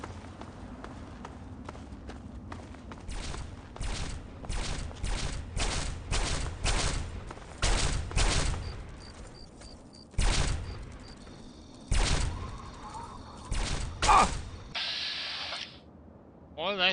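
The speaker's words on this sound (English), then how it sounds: "Why are they firing at me?" Gunfire in Fallout 3, rapid bursts of loud sharp shots repeating in clusters, with brief pauses and a fading tail near the end.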